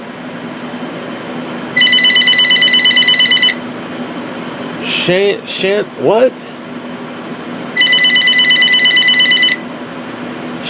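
A telephone rings in two long electronic bursts, separated by a few seconds of steady background hum, with a short spoken exclamation between the rings.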